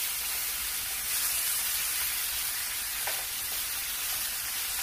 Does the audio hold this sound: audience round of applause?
no